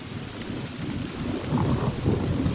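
Steady heavy rain pours down through a thunderstorm as low thunder rumbles continuously beneath it, swelling louder in the second half, with no voices present.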